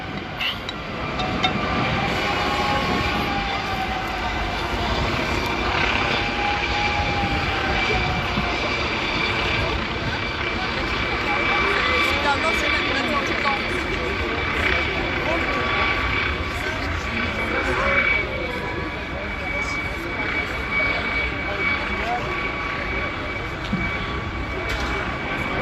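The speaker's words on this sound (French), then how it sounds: "Mais l'hélicoptère est vraiment juste au-dessus de nous." A police helicopter hovers directly overhead during a tense protest, its steady rotor and engine roar continuous and loud throughout, with people talking underneath.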